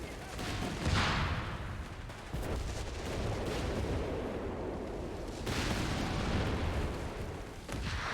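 Artillery firing in the video game Company of Heroes 3 during a British Forces 4v4 match, with heavy booming blasts, a dense fusillade of gunfire rumbling throughout, and sharp new impacts near the start and middle.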